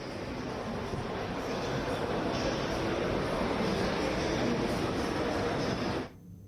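An aircraft flies at an Indian air show, producing a loud, continuous broadband roar that holds steady for about six seconds before cutting off sharply.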